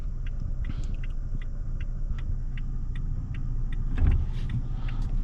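A 2021 Toyota Tacoma TRD Sport 4x4 with a 3.5-liter V6 drives in traffic, its engine a steady low rumble with road noise and a faint rhythmic ticking inside the cabin, swelling briefly near the end.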